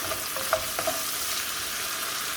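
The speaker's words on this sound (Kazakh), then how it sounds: "екі тіше сарымсақ чеснокты қосып жатырмын. Жақсылап қуырамыз." Onion and garlic fry steadily in a pan over low heat, a constant sizzling hiss with a couple of faint clinks near the start.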